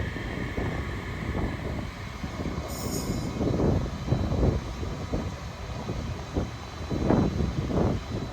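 A Sydney Oscar H-set electric train, sets H11 and H42, rolls through Gosford station with rhythmic wheel clatter over rail joints, a steady motor hum and a brief high squeal, heard from close by.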